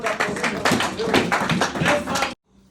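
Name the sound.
applause for God in church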